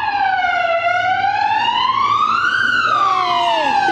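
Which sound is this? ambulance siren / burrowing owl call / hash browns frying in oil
ambulance siren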